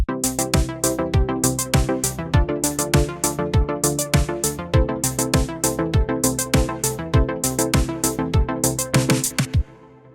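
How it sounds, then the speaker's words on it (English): Synth pad chords from a keyboard session player, fed through an arpeggiator into a Reason synth, ripple in fast repeating notes over a steady electronic drum beat with punchy kicks, playing loud and alone before stopping abruptly. "these are just the keyboard players with a simple pad setting, playing the chords, and then going to the arpeggiator into the Reason synth."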